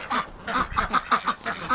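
Breeding ducks quack and honk in a rapid series of nasal calls, close and clear, several birds overlapping in quick succession.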